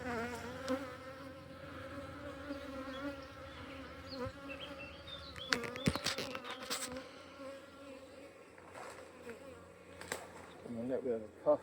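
Honeybees hum in a double brood hive, a dense, steady buzz close by that rises and wavers as the boxes are worked, with some clatter and rustling over it.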